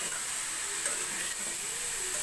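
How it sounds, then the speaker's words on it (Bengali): Sweet pumpkin and ginger paste fry in a pan while being stirred, a steady close hiss and sizzle with faint scraping throughout. "আমি এখন এটাকে এভাবে নাড়াচাড়া করে ভালো করে মিশিয়ে"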